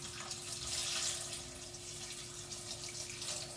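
Just over a litre of stock pours into a pot of Dublin coddle with sausages, making a soft, continuous watery rush and trickle. It is fairly faint and steady, with a low hum beneath it and no talking.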